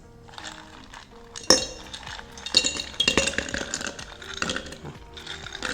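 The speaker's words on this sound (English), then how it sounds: "Fill that cup up with ice." Ice cubes clatter and clink into a cup while it is filled for cold brew, a quiet opening followed by a sharp first drop and bursts of hard rattling, close and loud with no talking.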